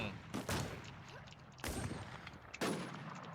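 Three sharp gunshot bursts spaced about a second apart in the WarZ survival shooter game, each cracking loudly then decaying over a low background rumble.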